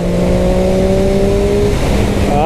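A 2017 Triumph Daytona 675R motorcycle engine revs loud and close, a steady high-pitched tone climbing and then dropping away under constant roaring wind noise.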